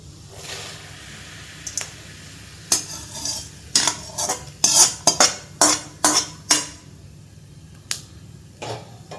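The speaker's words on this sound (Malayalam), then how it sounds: "അപ്പോൾ ഇതെല്ലാം കൂടെ നമുക്കൊന്ന് മിക്സ് ചെയ്യാം." A spoon clinks and scrapes in a pan as fried ingredients are mixed into white flattened rice (aval) for a sweet aval vilayichathu, giving a run of sharp, rhythmic metallic taps over quiet background hiss.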